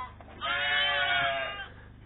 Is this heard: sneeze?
no